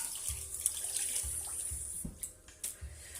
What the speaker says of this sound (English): My hands are quick rinse.